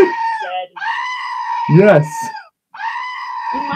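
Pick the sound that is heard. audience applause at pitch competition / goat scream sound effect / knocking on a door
goat scream sound effect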